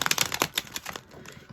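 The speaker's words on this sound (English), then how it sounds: "So this deck is very thick. I'm trying to shuffle." A thick tarot card deck being shuffled in two parts, giving a quick run of close, crisp riffling and card slaps with short pauses, no voice over it.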